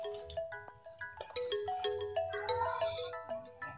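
A phone ringtone plays a bright electronic melody of quick, repeating tonal notes, moderately loud and close, with no talk over it.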